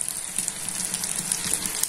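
Sliced eggplant sizzles as it fries in a pan, a continuous crackling hiss with small popping bursts, close and steady with no talking.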